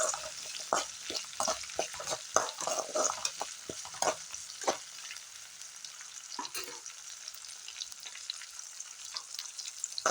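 Curry leaves, ginger and onions sautéing in oil for a carp fish curry, with busy scraping and clattering of a spoon against the pan over a light sizzle, stirring heavily at first and then easing off into quieter frying.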